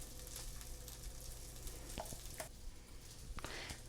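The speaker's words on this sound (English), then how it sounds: "Okay, give it a little stir." Enchilada sauce with cornstarch slurry being stirred in a pan, a steady simmering sizzle with a few soft spoon scrapes and clinks, close and alone without talk.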